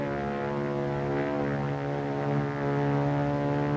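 A distant propeller airplane in flight gives a steady, droning engine hum with a strong low tone that holds evenly throughout, with no voices.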